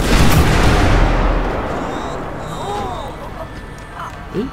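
Gunfire and blasts in a GTA 5 zombie mod shooter game, opening with a loud burst of booming shots that trails off into a rumbling decay, with faint game sounds and a brief sharp pop near the end.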